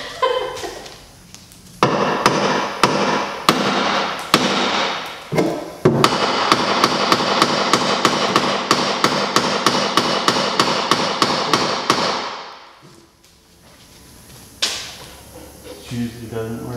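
A big hammer pounds a rubber leaf spring bushing on a GMC rear axle in a series of loud, sharp metallic blows, sparse at first then in a rapid steady run, before stopping and one last strike.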